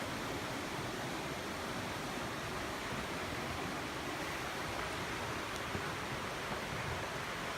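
A cold Swiss river flows past a small beach, making a soft, even, continuous rush of water with no voices.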